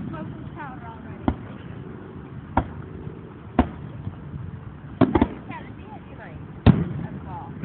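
Fireworks bursting at San Diego, a handful of sharp irregular bangs spaced a second or so apart, heard at moderate distance over crowd murmur and nearby talk.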